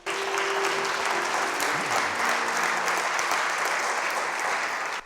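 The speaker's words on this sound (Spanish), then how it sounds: "Denle un aplauso al Señor." A church congregation applauding, steady dense clapping at full volume from start to finish, with a brief faint voice tone underneath.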